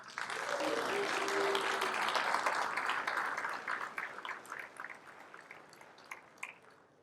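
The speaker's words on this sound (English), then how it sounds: "So big round of applause." Audience applause at a community centennial celebration on Main Street, Hanford, a dense patter of clapping that starts strong and gradually thins and fades over several seconds, with some crowd murmur mixed in.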